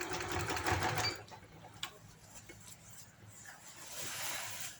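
A sewing machine runs in short bursts while stitching pleats on a wedding lehenga. A whirring hum comes up close at the start, fades to quiet handling, then rises again toward the end, with a voice talking faintly underneath.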